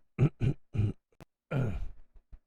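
Three short, forceful coughs in quick succession, then a longer rough burst trailing into a few faint bumps, close to the mic.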